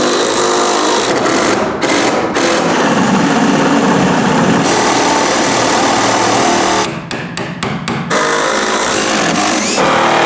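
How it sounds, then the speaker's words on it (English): A power saw cuts a wooden king stud for a kitchen ceiling rebuild in a mansion restoration, running loud and steady for most of the stretch with a few brief dips near the end. "Right now we're going to cut our king stud"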